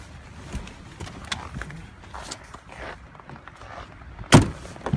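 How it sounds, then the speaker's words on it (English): A 1994 Mercury Sable trunk popping open outdoors in freezing weather: a sharp single latch clunk near the end, preceded by faint handling noises and wind, with no talking. "And the trunk does pop open"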